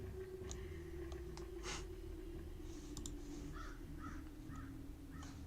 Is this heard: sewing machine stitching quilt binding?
no